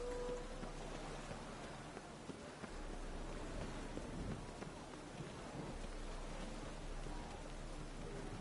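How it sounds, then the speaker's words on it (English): Steady rain falls in the open world of the video game The Witcher 3, a continuous broadband hiss with faint distant rumbles beneath, no voices present. "And it's raining again."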